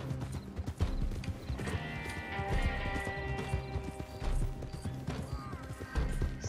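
Horse hooves clip-clop at a steady gallop in the Red Dead Redemption 2 video game, with a continuous rhythmic pounding that stays loud across the whole stretch and mixes with game ambience and a possible whinny.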